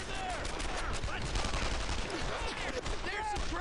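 Sustained gunfire in the World War II shooter Brothers in Arms: Earned in Blood, a dense continuous crackle of rifle and machine-gun shots with whistling ricochets, steady and loud throughout.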